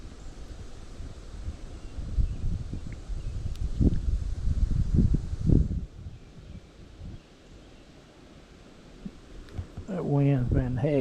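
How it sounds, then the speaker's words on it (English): Hard wind gusts outdoors by the water while fishing for brim, rumbling and buffeting the microphone in uneven surges, easing off midway before picking up again as a voice comes in at the end. "the wind blowing hard"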